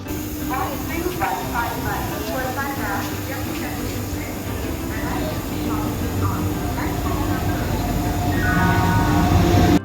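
A passenger train pulls out of a station on a Kolkata to Varanasi route, with rolling rail rumble, hissing brakes and squealing wheels rising steadily. People talk nearby on the platform.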